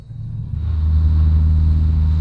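A 502-horsepower Honda Civic engine revs up under throttle, a deep low rumble that swells after half a second and holds loud and steady, heard close with no talk.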